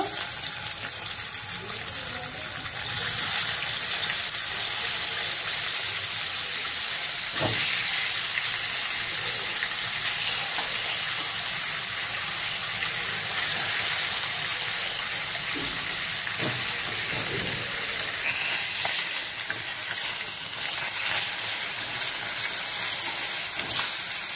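Sea fish, noya mach, frying in oil in a kadai gives a continuous close hiss and sizzle for a long stretch, with a few sharp clicks and pops scattered through it.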